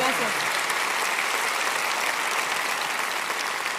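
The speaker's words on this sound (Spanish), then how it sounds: "Denles un buen aplauso a Michael y Fiona Mellet" A church congregation applauds a couple at a Christian sermon, a dense, steady wash of clapping from many hands that fills the room at even loudness throughout.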